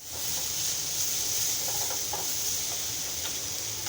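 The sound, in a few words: minced meat frying lightly in oil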